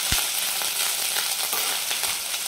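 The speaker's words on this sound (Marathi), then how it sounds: "आलं लसणाची पेस्ट आहे ते पण टाकून घेते. छान मिक्स करून घ्यायचं आहे आपल्याला कच्चेपणा जाईपर्यंत." Ginger garlic paste frying in a pan while being stirred, a dense continuous sizzle up close with soft rhythmic scraping knocks from the spoon.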